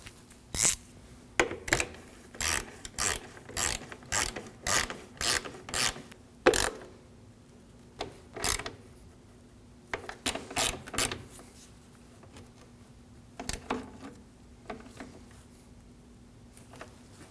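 A ratchet snugging down bolts on the radiator of a 2013-2015 Subaru XV Crosstrek, close rapid clicking bursts in a steady run of repeated strokes, pausing briefly and then resuming in shorter groups.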